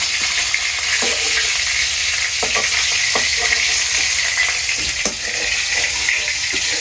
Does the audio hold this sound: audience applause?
no